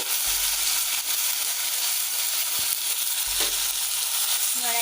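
Garlic and onion sizzling in hot oil over a low flame for an Assamese sidal chutney, a steady close frying hiss with a couple of brief stirring scrapes.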